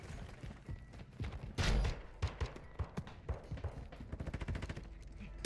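Gunfire in the DMZ first-person shooter video game, a series of sharp shots and short bursts spread across the clip, with one heavier thumping blast near the start and rapid, fairly close cracks toward the end.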